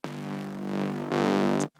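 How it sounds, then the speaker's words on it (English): Diva synth preset run through distortion, reverb, bit crushing and limiting: a dense, buzzy sustained tone with rich harmonics that jumps louder and brighter partway through, then cuts off abruptly into a short reverb tail. "Let's put some distortion and reverb on it."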